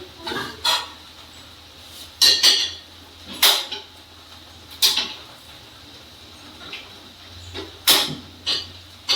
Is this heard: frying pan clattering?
yes